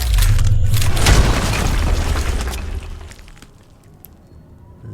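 A heavy boom and crumbling crash as a wall is punched through in Deus Ex: Human Revolution, loud and close at first, then debris rumble tapering off into quiet.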